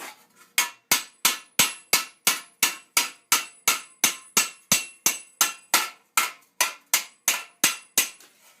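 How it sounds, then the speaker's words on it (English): Steel for late 14th-century greaves is rough-planished with a hammer, a close, loud run of about twenty evenly spaced metallic blows each ringing briefly before the next, with no talking. "This is what would be called rough planishing or bouging"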